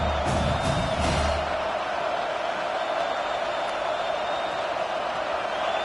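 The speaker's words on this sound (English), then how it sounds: "how nice is it to have the home crowd going absolutely bananas?" A home crowd at a football game roars in a broad, continuous wash of cheering and shouting that holds steady for several seconds, dense and loud, with a few brief whoops near the start.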